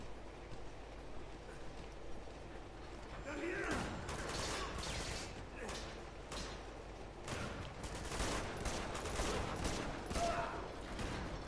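Rapid gunfire from a firefight in Uncharted 2: Among Thieves aboard a moving train, crackling in dense bursts from about four seconds onward over a steady rumble of rail noise, with a voice talking faintly underneath.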